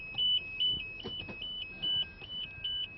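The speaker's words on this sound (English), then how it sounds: "We're getting some kind of an alarm here." A repeating electronic alarm beeps from a storm tracker system in a TV newsroom during hurricane coverage, a steady string of about eight short high tones over quiet room noise.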